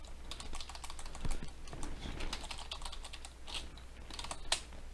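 Code being typed on a computer keyboard, a steady run of quick, fairly close key clicks with brief pauses and a few sharper keystrokes, no talking.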